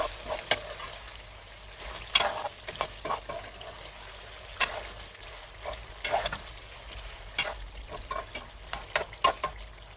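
Chicken karahi with black pepper frying in a pan, restaurant style, gives a steady sizzle broken by repeated scraping stirs and clinks throughout, close and moderately loud.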